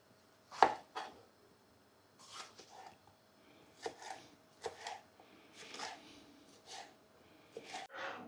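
Quiet, irregular knife chops on a cutting board as red peppers are cut, a few crisp strikes spaced apart, close by with soft kitchen handling in between.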